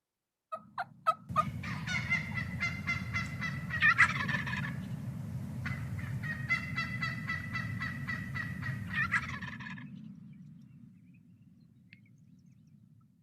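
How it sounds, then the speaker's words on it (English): Several turkeys gobble in rapid rattling bursts, with scattered clicks and chirps, fairly close, before fading out. "you can kind of hear the different sounds, the gobbles and the clicks and the chirps"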